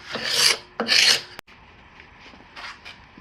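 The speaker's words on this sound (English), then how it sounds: "left one side sharp for scraping" A sharp-edged piece of glass scrapes along wood in two loud rasping strokes close by, followed by a sharp tap and fainter lighter scraping.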